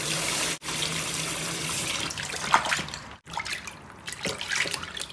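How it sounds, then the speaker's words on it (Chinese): Tap water runs into a kitchen sink while a piece of beef tenderloin is rinsed under it, a close splashing gush broken by brief pauses and shifting splatter as the meat is turned. "先把牛肉洗一下。"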